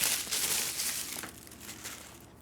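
Crinkling wrapping is pulled off a well-wrapped niche summer fragrance bottle bearing a sticker, a dense papery rustle that is loudest at first, then eases into softer crackles and handling.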